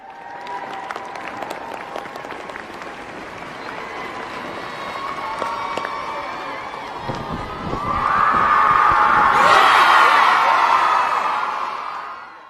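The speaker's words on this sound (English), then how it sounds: "Harry's table erupted with cheers and applause." In the Harry Potter and the Philosopher's Stone video game, Gryffindor's table of students erupts in cheers and applause as the House Cup is awarded. A steady clapping crowd swells into louder whoops and shouting near the end.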